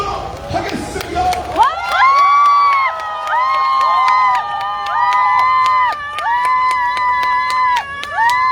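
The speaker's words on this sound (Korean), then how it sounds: "뜨거운 박수와 함성으로 모시도록 하겠습니다." A large crowd at an outdoor election campaign rally in Seogwipo, Jeju cheers and shouts, and rhythmic sliding synthesized tones like a rally jingle or air horns repeat above the noise.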